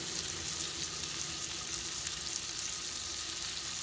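Filet mignon sears in a hot pan, giving a steady, dense sizzle and crackle that fills the whole stretch without pause, close and fairly loud, with no voices.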